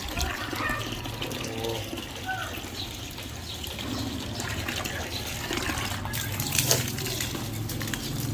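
Water running steadily to irrigate a grape vine outdoors, a continuous trickling wash close by with voices talking over it throughout.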